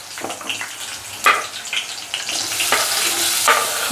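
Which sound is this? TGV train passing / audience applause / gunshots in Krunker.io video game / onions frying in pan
onions frying in pan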